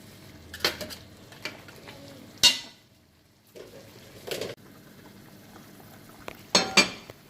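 Pork browning in a pot for Jamaican-style brown stew, with a soft sizzle under repeated metallic clanks and scrapes of a utensil against the pot, the clatters coming in sharp bursts separated by quieter frying.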